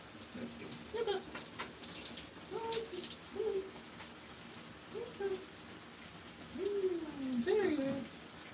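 Shower water runs in a steady, even hiss throughout as a pet parrot is held near the shower head, with a few soft chirps and a quiet voice over the spray.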